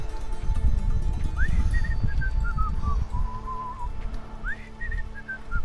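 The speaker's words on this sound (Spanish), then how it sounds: "Ah, solo silbas." A character in Assassin's Creed Odyssey whistling two short rising-then-falling melodic phrases, clear and mid-distance, over a steady bed of game ambience with some low rumbling and hoof-like noise.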